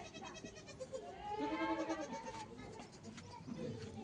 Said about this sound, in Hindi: सारी बर्बरी बकरियां। एक बकरी है, इसने आज रात को बच्चा दिया है किसान भाइयों।